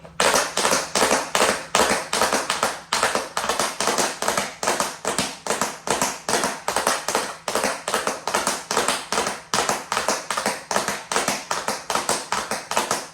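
Tap shoes strike a hard floor in fast, sharp shuffles and jumps, a steady rapid stream of crisp clicks close up, with no talking.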